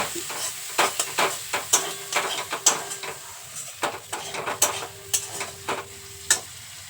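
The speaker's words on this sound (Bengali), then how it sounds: "এবার সমস্ত উপকরণ মশলার সাথে খুব ভালো করে মিশিয়ে নেব" A spoon stirs tomato and spice masala for Bengali bata fish curry in a frying pan, scraping in a steady series of sharp strokes over a constant soft sizzle, close and alone with no talking.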